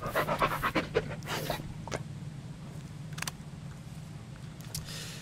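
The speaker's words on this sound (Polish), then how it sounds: "Bulek, chodź tu pies, potrzebuję twojej psychy" A dog pants rapidly and heavily at close range in the Blair Witch video game, with quick breathy bursts at first that settle into quieter breathing over a low ambient hum.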